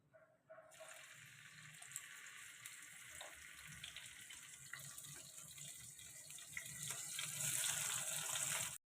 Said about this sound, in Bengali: একদিকে জল ভরছি